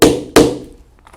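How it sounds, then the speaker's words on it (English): A rivet setter is struck twice, fixing a rivet through the cap on a two-layer leather saddlebag. Two sharp, close thunks land about a third of a second apart, each ringing briefly before fading. "put the cap in place and secure it with the rivet setter."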